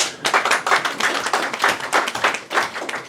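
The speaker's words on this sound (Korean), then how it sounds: "박수 칠까요? 한번 쳐주시겠습니까?" A small audience at a Sejong city mayor's press briefing claps in quick, uneven bursts that rise and dip over a few seconds, fairly close and without talk.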